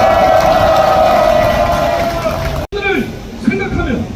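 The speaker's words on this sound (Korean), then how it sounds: "동지들의 힘찬 함성과 박수로 시작하겠습니다" A crowd at a construction union general strike rally in Gyeongnam cheers and shouts loudly for under three seconds; it cuts off abruptly and a speaking voice follows.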